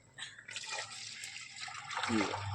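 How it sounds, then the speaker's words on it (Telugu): Three litres of water poured into a pot of masala for mutton biryani, a soft, continuous splashing rush that builds over a couple of seconds, fairly quiet and close, with a voice talking over it. "ఈ మసాలాలలో మూడు లీటర్ల వాటర్ కలుపుకోవాలి చూడండి"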